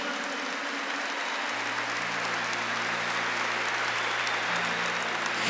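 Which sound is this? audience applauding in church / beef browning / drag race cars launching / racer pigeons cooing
audience applauding in church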